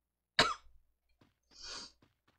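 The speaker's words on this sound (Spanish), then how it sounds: "Ya no quiero tener tos." A single sharp cough close by, followed by a breathy throat-clearing rasp in an otherwise quiet room.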